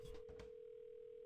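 A steady, clean telephone dial tone hums in a pawn shop horror video game, constant and alone for a brief moment.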